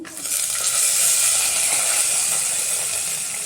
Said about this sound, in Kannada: ಇದೆಲ್ಲ ಸ್ವಲ್ಪ ಫ್ರೈ ಆಗಲಿ.